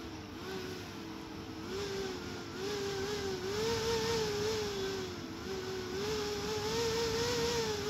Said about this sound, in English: you can see the fan is now spinning.